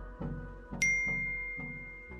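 A single bright notification bell dings once and rings out in a long, fading tone over a steady, rhythmic music bed.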